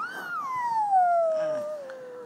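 A single drawn-out meow from a cat in a store slides from high to low pitch, clear and fairly close, with quiet store ambience behind it.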